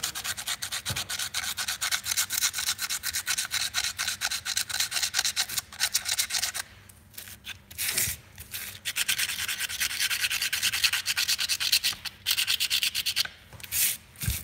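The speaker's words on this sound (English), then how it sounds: "I'm going to take it and taper it by spinning it against the sandpaper" Steady, dense rubbing and sanding as a Predator 212 engine part is spun against sandpaper to taper it, continuous and close with a few brief pauses and no talk.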